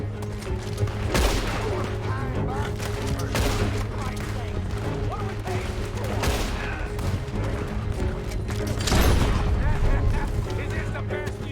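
Carbine repeater fire in Red Dead Redemption 2 comes as repeated sharp shots and booming bursts at irregular intervals over a dense game soundscape, with a voice talking underneath.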